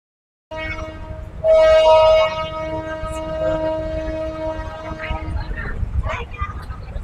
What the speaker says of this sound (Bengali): আমাদের ট্রেনটি ধীরে ধীরে ধীরে ধীরে এগিয়ে যাচ্ছে